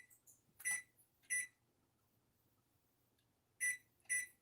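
A kitchen timer being set for an oven bake gives four short, bright electronic beeps, two close together, a pause, then two more, fairly close and alone.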